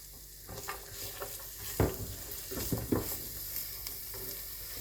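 Crushed onions frying in about two tablespoons of oil in a pan on a medium stove, a soft continuous sizzle with a few scraping stirs, quiet and close with no talking.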